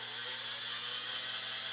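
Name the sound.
lathe running while machining a leadscrew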